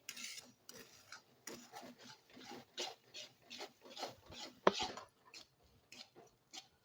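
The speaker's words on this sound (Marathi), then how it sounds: "पाक हे व्यवस्थित असं पटपट हलवून घ्यायचंय।" Hot sugar syrup is stirred quickly in a pan, making quiet rapid rhythmic scraping and rubbing strokes close by, with a few soft knocks.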